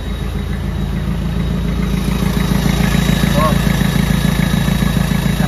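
A 4JG2 diesel engine in an Isuzu Trooper idles steadily close by, fitted with two new nozzle tips. Its low, even rumble runs throughout the clip while someone talks over it.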